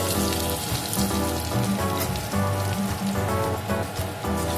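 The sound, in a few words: potatoes frying in oil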